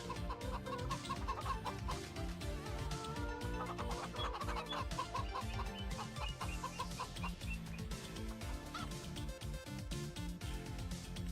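Chickens cluck steadily in the farming video game Farming Simulator 25, the fowl sounds running continuously over dense game music and ambience throughout.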